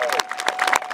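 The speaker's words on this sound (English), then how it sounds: "Give him a round of applause." Crowd at a memorial field ribbon cutting ceremony clapping for Lyndon Williams, a short, close burst of scattered hand claps lasting under a second.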